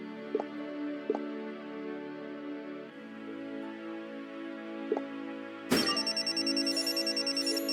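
A telephone rings inside a TV cabinet in the video game Resorting to Danger: a repeating electronic ringtone with faint tonal blips at first, then a louder, brighter ringing burst near the end, heard alone.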